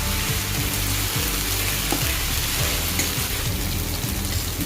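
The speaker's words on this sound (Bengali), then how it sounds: "এবার আমি আদা পেঁয়াজ রসুনটাকে খুব ভালো করে ভেজে নেবো" Chopped ginger, onion and garlic paste sizzle and fry in hot oil in a pan while Bengali chital fish muitha is being made. The frying crackles loudly and steadily, with no talking.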